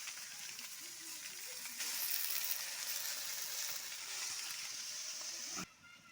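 Radish greens dropped into a hot pan after frying prawns, a steady watery sizzle that grows louder partway through and then cuts off abruptly near the end.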